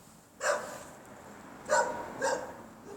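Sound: stray dog barking

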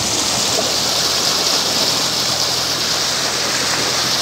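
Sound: water flowing in irrigation canal

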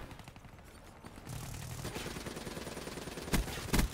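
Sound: gunfire from a weapon in the video game Black Ops 3

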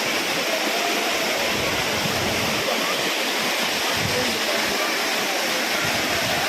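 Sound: Courtallam waterfall water falling

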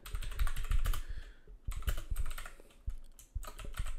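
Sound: typing code on a computer keyboard

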